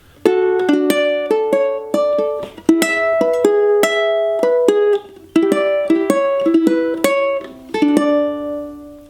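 A ukulele plays a verse melody over strummed chords, with close, bright plucked notes and brief pauses between phrases, with no talking.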